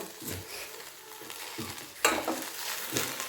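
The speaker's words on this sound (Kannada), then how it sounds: "ಸಣ್ಣ ಉರಿಯಲ್ಲಿಟ್ಟು ಸ್ವಲ್ಪ ಫ್ರೈ ಮಾಡ್ಕೊಬೇಕು." Okra (bhindi) frying in a pan over a low flame for a South Indian palya, a soft steady sizzle broken by a few scraping stirs of a spatula against the pan, close by and with no voices.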